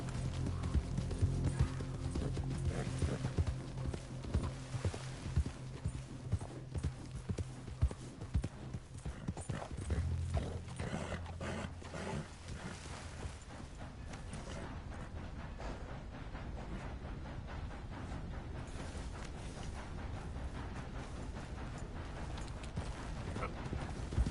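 A horse in the Red Dead Redemption II video game gallops with a fast, steady clip-clop of hooves that runs without a break. It sounds faint and slightly distant, with occasional rattling of tack and gear mixed in.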